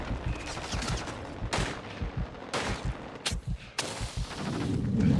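Video game gunfire rattles in rapid bursts of shots with short pauses between volleys, loud and close, building into a denser rumble at the end.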